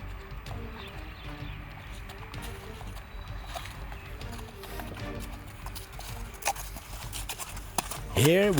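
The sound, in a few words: horse hooves clip-clopping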